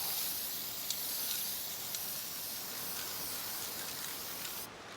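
Lacquer clear coat sprayed onto a guitar body: a steady, even hiss of spray throughout, with a few faint clicks, cutting off just before the end.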